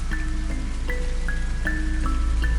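Steady rain pours in a dense, even hiss, with a low rumble and faint tonal ringing running through it, and no voices.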